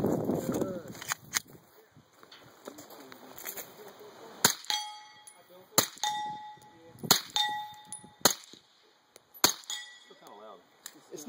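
Glock 9mm pistol shots fired wet-suppressed, around half a dozen sharp metallic clanking reports spaced a second or so apart, with people talking quietly between them.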